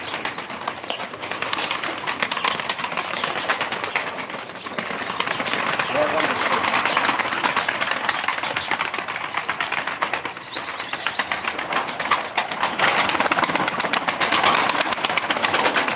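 A loft full of pigeons, about fifty birds, makes continuous wing flapping and shuffling with occasional coos, dense and close throughout, with people talking faintly underneath.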